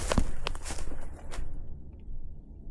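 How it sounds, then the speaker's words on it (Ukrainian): A few soft footsteps nearby, scuffing on the ground in quick succession, then fading into quiet. "Хтось там ходить. Я чую тебе."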